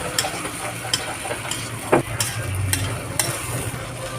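A spoon stirs upo squash and sardines cooking in a pan. Scraping strokes and a few sharp clinks ride over a steady low sizzle, close up and with no voices.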